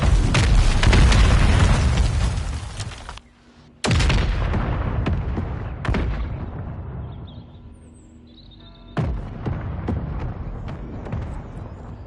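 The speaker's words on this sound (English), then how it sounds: "Hostile mortar strike near your position." Mortar strike explosions in the video game Call of Duty: Modern Warfare 3: several loud, deep blasts in a row, each rumbling away before the next heavy impact lands, with brief near-silent gaps between them.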